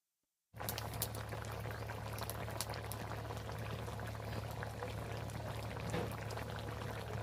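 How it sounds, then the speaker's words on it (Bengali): Egg curry gravy with boiled eggs bubbling in a pot, a steady close simmering burble that starts abruptly and carries on alone over a low hum. "ঝোলটাও ভালো হয়ে একদম ফুটে গেছে"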